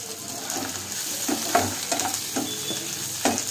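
Onion and tomato fry in a pan with green chilli for a chicken masala, giving a low sizzle punctuated by several sharp scrapes and taps of a stirring spoon, close and without speech.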